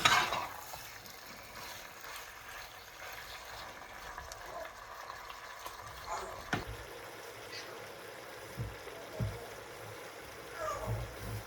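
Squid and onion frying in a pan are stirred, with a steady low sizzle and scattered scraping and clinking of the utensil against the pan over about eleven seconds.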